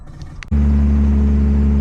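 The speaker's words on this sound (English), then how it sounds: "So I cranked it up and it's running now." A Nissan Skyline R32 GTS-T engine catches on an E85 cold start and settles into a loud, steady close-up idle with a strong low drone after a brief, quieter moment.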